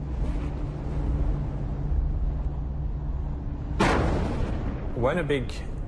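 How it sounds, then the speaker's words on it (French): A massive star exploding, rendered as a documentary sound effect: a long deep rumbling roar, then a sudden loud crashing burst near the end followed by swooping, warbling tones. "Quand une étoile massive explose, ça fait des dégâts."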